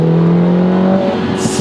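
A Lotus Emira four-cylinder with a dual clutch gearbox driving fast, its engine holding a steady loud drone from inside the car, then dropping in pitch as it lets off.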